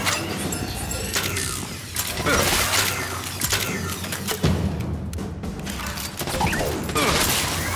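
A weapon reloads in the Gears 5 video game, with metallic clacks, ratcheting mechanism sounds and clinks over loud continuous battle noise and scattered gunfire.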